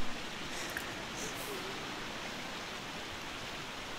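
A steady, even hiss of running shower water in The Sims 4 carries on evenly from start to finish, with no talk over it.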